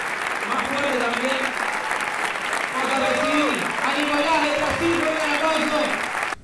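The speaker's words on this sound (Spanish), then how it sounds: "Quiero que siga este aplauso" Audience applause at a live show in Laferrere, a steady dense wash of clapping filling the whole stretch, with voices talking and calling out over it.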